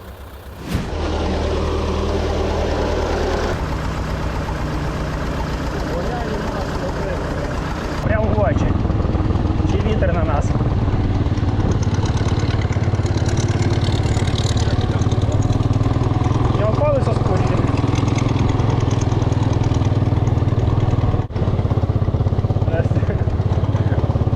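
T-40 tractor engine running after a hitch repair, a loud, steady diesel chug that steps up in pitch and stays revved, with a voice talking over it.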